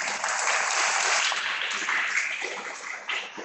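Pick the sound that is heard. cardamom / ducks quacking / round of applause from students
round of applause from students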